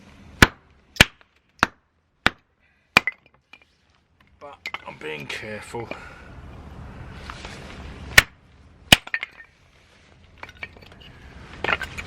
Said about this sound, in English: So I'll have that and chop up some wood.